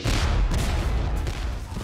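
Dense, heavy gunfire and booming rolls in from a 1776 battle on Long Island, a continuous loud rumble of overlapping shots and blasts with no pauses.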